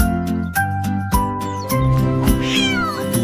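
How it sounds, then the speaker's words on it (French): A cartoon-style cat gives a short meow over a children's nursery song with bright melodic accompaniment, the meow brief and mixed into the music rather than heard alone. "Une chatte était assise au sommet du mur du jardin."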